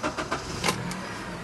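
A 2003 Honda Accord EX-L with a 5-speed, high mileage, cranking briefly and catching, a short starter whir followed by a steady idle, close and loud with no talk.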